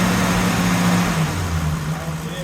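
A straight-eight car engine holds a steady drone at around 2000 rpm, close and fairly loud, its pitch easing slightly lower partway through.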